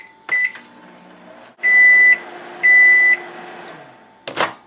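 A microwave oven heating butter and chocolate chips for fudge: door and button sounds, the running hum, then loud repeated electronic beeps and a final clunk, close by with no talk.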